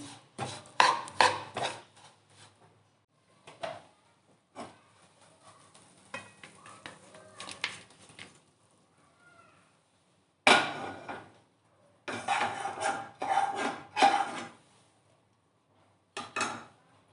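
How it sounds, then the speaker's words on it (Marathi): A hot sesame and peanut chikki mixture is poured and scraped out of a pan onto a plate, producing intermittent close scraping and clattering bursts separated by quiet gaps. "चला आता हे ताटात मिश्रण ओतून घेऊया आपण"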